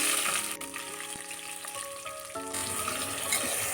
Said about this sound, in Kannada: ಈರುಳ್ಳಿ ಚೆನ್ನಾಗಿ ಫ್ರೈ ಮಾಡ್ಕೋಬೇಕು ಸ್ವಲ್ಪ.